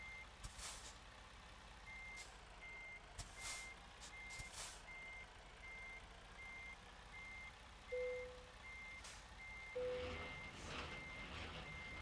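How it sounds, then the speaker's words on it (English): Steady reversing beeps from a vehicle backing up repeat at an even rhythm, moderately loud over a low engine rumble with occasional brief hisses and knocks, and no talking. "Sorry about the beeping."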